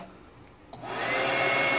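A hair dryer mounted inside a pack-filling machine switches on after a quick click and blows a steady, loud whooshing stream of air that holds to the end, with no talk.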